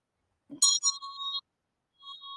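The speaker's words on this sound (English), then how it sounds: "the bell will ring." A small bell gives a bright, ringing tone that holds for most of a second, then sounds again more softly about half a second later. The room is otherwise quiet.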